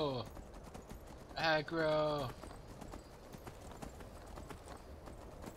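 Horse hooves clop in the video game Skyrim, a quiet steady rhythm under a sharp shouted exclamation from a player.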